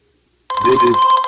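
A Tawk.to live chat notification rings from a computer when a new message arrives on a WordPress website. A bright, tonal electronic ringtone starts abruptly after a short silence and holds steady, fairly loud and close.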